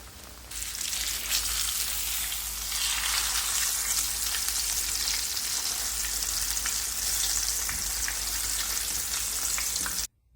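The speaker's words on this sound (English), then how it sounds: "And now we'll go to the pan. Have your oil heated up and ready to go." Breaded catfish frying in hot oil in a pan, a loud, steady, close sizzle with fine crackling that runs unbroken for about ten seconds before stopping abruptly.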